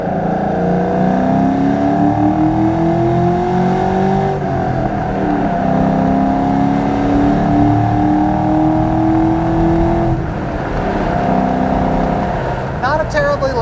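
A supercharged 2004 Ford Saleen with a 4.6 engine and five-speed pulls hard. The loud, close engine note climbs steadily in pitch through the gears, with brief dips at shifts, and faint voices come through underneath.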